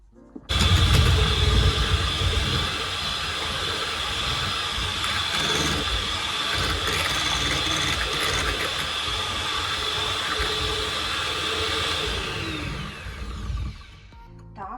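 An electric mixer whirs continuously, beating soft butter into an egg mixture for a pumpkin cinnamon lemon cake, starting abruptly, holding a steady loud drone and cutting off near the end.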